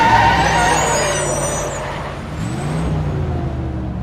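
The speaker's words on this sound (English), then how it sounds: "Suddenly, the bus stops with a loud screech." A bus pulls to a stop with a loud, drawn-out brake squeal and air-brake hiss close by, engine rumble continuing underneath.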